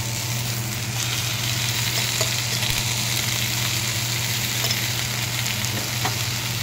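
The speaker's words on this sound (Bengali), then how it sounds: "পেঁয়াজ রসুন কষানো হয়ে গেলে এর মধ্যে দিয়ে দেবো একটু আদা রসুন বাটা" Ginger garlic paste frying in a pan after onion and garlic, a continuous dense sizzle with a steady low hum underneath, close and even throughout, no talk.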